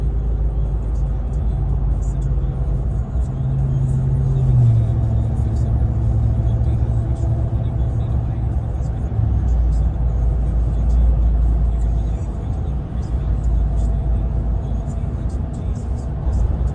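Heard from inside the cab, a Ram TRX pickup truck's engine rumbles loudly, with a deep rising rev as the throttle opens and a sustained low drone of driving underneath.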